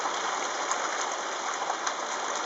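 Steady, dense rain hisses continuously at a constant level, with no voices present.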